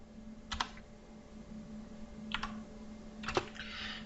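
Computer keys click in a few short bursts of typing, quiet and close, separated by pauses over a faint steady hum, no talk.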